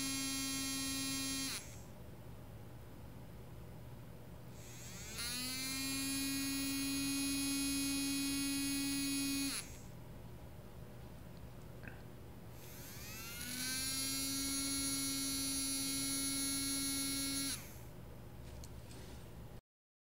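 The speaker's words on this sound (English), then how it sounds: "Now the motor will rotate counterclockwise." A small DC motor driven by an L293D driver board whirs in two bursts, each rising in pitch as it spins up and then cutting off, over a steady low electrical hum.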